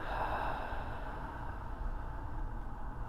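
A long, deep exhale during a guided breathing meditation, a soft, steady airy breath that fills the whole moment, close and even, with no talking over it.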